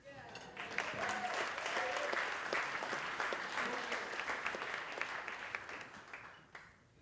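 Audience applause at a wine outing, a sustained wash of clapping from a crowd that swells in the first second, holds steady and fades near the end.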